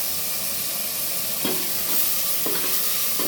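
Mutton mince added to a hot pot and fried, making a constant loud sizzle with a couple of sharp scraping stirs of a spoon against the vessel and no speech.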